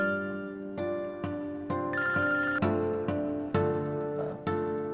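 Phone ringtone playing a bright, repeating electronic melody of distinct tonal notes in a steady rhythm, loud and close, with no one speaking.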